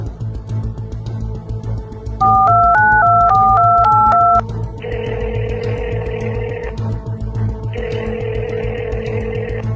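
A mobile phone dials out with a quick run of touch-tone beeps, followed by long, repeated ringback tones over a steady low hum.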